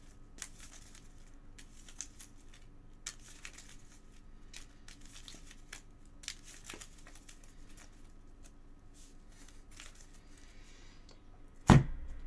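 Marvel Champions game cards are riffled and shuffled in soft, repeated crisp flicks close by, ending in one sharper thump as the deck is squared, with no talking.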